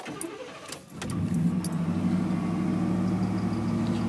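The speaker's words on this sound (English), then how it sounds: "I guess I'll start it up and let you people hear it" A 1991 Chevrolet Z71 pickup truck cranks briefly and its engine catches after about a second, settling into a steady, loud, close idle with a strong low rumble and no talking.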